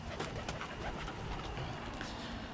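Birmingham Roller pigeons coo softly inside their loft under a steady background hiss, faint and continuous.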